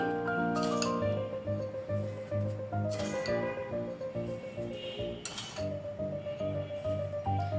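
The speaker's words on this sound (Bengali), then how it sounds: "আমি একটা টেবিল চামচ দিয়ে আমি চিনিটা দিয়ে দিচ্ছি" A tablespoon clinks against a vessel while sugar goes into milk for milk pera sandesh, light metallic taps under music playing throughout.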